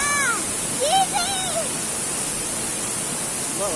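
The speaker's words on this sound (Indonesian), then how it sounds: "Kita lagi di air terjun." Segenter waterfall pours as a constant broad rush of falling water, loud and close, while people shout and call out over it.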